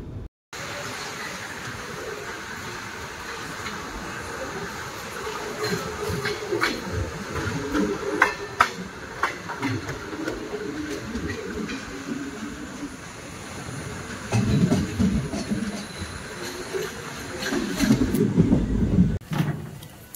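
Dullabcherra–Guwahati train running through Lanka railway station without stopping, a steady rumbling roll with rattling wagons and scattered metallic clanks, swelling louder toward the end.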